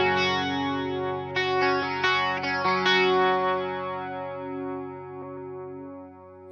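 An electric guitar runs through a Boss DC-2 Dimension C chorus pedal, strummed chords ringing out with a wide, shimmering modulation and slowly fading over several seconds.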